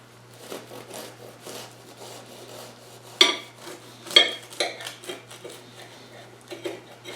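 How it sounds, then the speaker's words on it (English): Bread knife sawing through an almond croissant, a series of rough scraping strokes and crackly crust crunches with a couple of louder sharp bursts, close and without speech. "So I'll try it with this bread knife."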